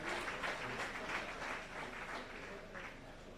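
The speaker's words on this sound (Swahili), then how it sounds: "Tumwongeze Mheshimiwa Balozi makofi mengi sana" Dense, steady audience applause fills a ceremony announcing and listing a Jamii bond, with a High Commissioner present. The clapping stays loud and sustained throughout with no voices on top.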